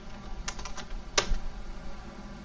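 Typing on a computer keyboard: a brief run of soft, quick keystrokes followed by a sharper single click, faint and close, with no voices.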